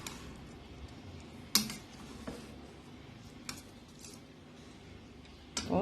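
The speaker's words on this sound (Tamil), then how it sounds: "இப்போ பாருங்களேன், லைட்டாக வந்து அப்படி கிளறி விட்றேன்." A spoon scrapes and clinks against a pot while moong dal pulao is gently stirred, with soft intermittent knocks and two sharper metallic hits, fairly quiet and close, with no talk.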